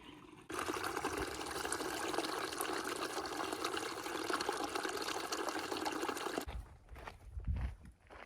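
Stream water on the Appalachian Trail at the edge of the Smokies flows steadily and fairly loudly, a broad continuous rush heard close by, which cuts off near the end and leaves a few soft thumps.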